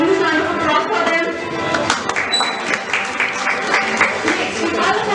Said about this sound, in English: Can we have a huge round of applause for them?